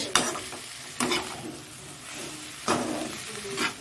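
Spiced chicken pieces being stirred in a pan with a little water added, giving a few distinct scraping strokes of the spatula against the pan over a low sizzle, close and moderately loud.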